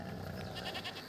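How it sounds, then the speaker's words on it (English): A goat in the video game A Plague Tale Requiem gives a short, faint bleat, a single wavering call lasting about a second with no talk over it. "You're a nice goat, Lucinda."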